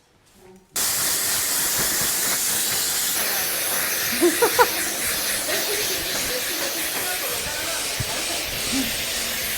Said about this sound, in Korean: 드라이기 갖고 하면 이제 진짜 드라이한 것처럼 말리기만 해도